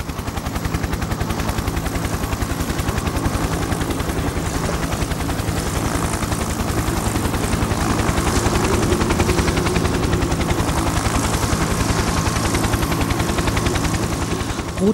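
A helicopter flies over snow-covered Rügen in the winter of 1978–79, its rotor a loud, rapid, steady chopping thud with heavy engine drone that continues throughout without speech.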